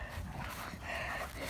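Dogs, puppies at a chaotic run shared with chickens, scuffle at close range with short yips, whimpers and growling barks packed into a brief, busy burst.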